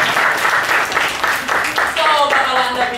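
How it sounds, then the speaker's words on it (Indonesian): Audience applause in a business seminar hall, a steady wash of clapping that fades as a voice starts talking over it in the second half. "Tepuk tangan dulu."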